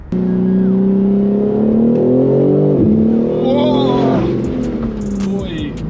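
A 2022 BMW M4 Competition Convertible accelerates on throttle, its engine drone rising steadily in pitch, then briefly dropping at a gear change before climbing again, loud and close throughout.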